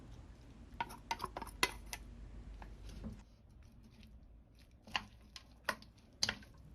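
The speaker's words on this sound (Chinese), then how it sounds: "用筷子慢慢的翻拌" Chopsticks tossing shredded potato and onion in a bowl, giving sparse clicks and taps against the bowl in small clusters with quiet pauses between, close and soft.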